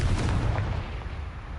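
Confringo fire spell from Hogwarts Legacy bursting with a loud, close explosive boom that rolls into a dense rumbling decay, no voices over it.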